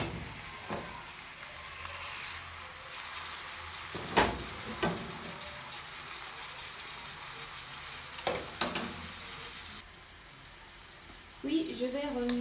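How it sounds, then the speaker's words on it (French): Minced meat fries in a pan with a continuous soft sizzle, punctuated by a few sharp scraping stirs and clatters of the utensil, close by, with a brief quieter stretch and a voice near the end. "au bout de 3 minutes de cuisson, je vais y ajouter de la viande hachée"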